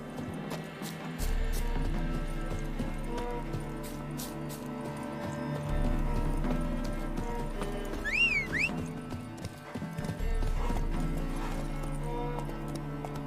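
Horse hooves clip-clopping at a steady rhythm in The Witcher 3, set over a continuous game music bed, with a brief whistling glide partway through.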